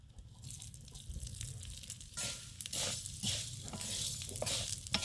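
Mixed lentils roasting in a little oil in a pan give a steady, fairly quiet sizzle with soft crackles and stirring scrapes throughout, with no voices.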